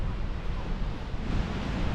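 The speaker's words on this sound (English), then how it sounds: "It's a bit wild and windy." Steady rushing wind gusts buffet the microphone, a continuous low roar with surging bursts and no voices.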